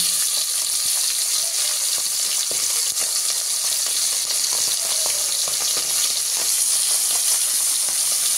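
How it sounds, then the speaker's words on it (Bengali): Fish pieces coated in salt and turmeric fry in hot oil, a dense, continuous close sizzle with scattered sharp crackles and spatters running throughout. "আমি এবার নুন হলুদ মাখা মাছগুলোকে দিয়ে ভালো করে উল্টে পাল্টে ভেজে নেব।"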